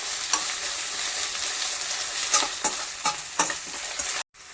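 Ginger garlic paste frying in a pan for egg bhurji, a steady hissing sizzle broken by several sharp scraping strokes of stirring, close and fairly loud, cutting off abruptly near the end.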